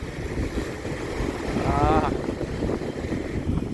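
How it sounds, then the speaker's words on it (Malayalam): Wind blowing along a seashore, a steady low buffeting rush with microphone gusts that swell through the middle, waves faintly underneath and a voice briefly audible. "കാറ്റിൻ്റെ ശബ്ദം നല്ലോണം ഉണ്ടാവും എന്ന് വിചാരിക്കുന്നു"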